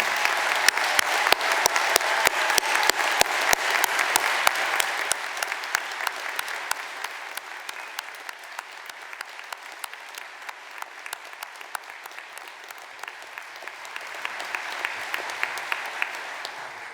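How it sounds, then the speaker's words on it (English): Sustained audience applause for graduates at a degree ceremony in Gateshead, dense clapping from a large crowd that gradually thins and softens, then swells briefly again near the end. "Let's give all the graduates one more round of applause,"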